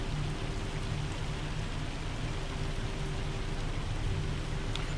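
Heavy rain pours down in the Farming Simulator 25 video game, a steady dense hiss with a low rumble that holds evenly loud throughout and has no voices over it.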